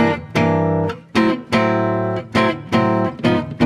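An amplified guitar plays a bluesy shuffle, chords struck in a loping, swung rhythm with short gaps between phrases, close and loud, outdoors at Valley of Fire, Nevada.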